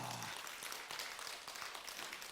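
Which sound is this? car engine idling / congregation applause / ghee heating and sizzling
congregation applause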